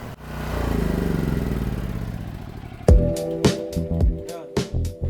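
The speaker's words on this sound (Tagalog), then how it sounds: "After 30 seconds, dapat kusa mag-shut off yung ating generator." A PK9500 tri-fuel generator drones steadily at close range, then cuts off sharply partway through, leaving a series of loud clunks and knocks as it winds down.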